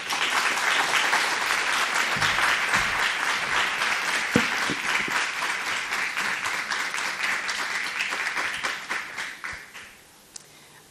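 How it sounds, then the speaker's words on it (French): Audience applause for three guests at a medical workshop on racism in medicine, a dense steady clapping from a room that keeps up for several seconds, then thins out into a few scattered claps and stops. "Je vous demande de les applaudir toutes les 3."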